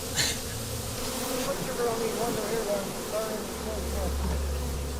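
Honey bees buzz steadily around hive boxes, a close, continuous droning hum with faint individual bees passing, while a low engine-like rumble rises toward the end.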